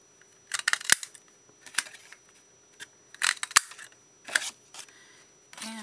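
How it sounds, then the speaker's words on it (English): Scissors snip through a small piece of book page paper in several separate close, crisp cuts spaced irregularly, some coming in quick doubled clicks, with a quiet room behind them. "I'd rather cut that than the big old square."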